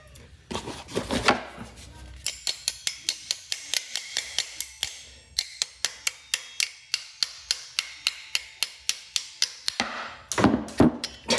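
Hart locking vice grips are tested on a small bolt in a fast, even run of sharp ticking clicks. Louder rustling handling noise comes at the start and again at the end.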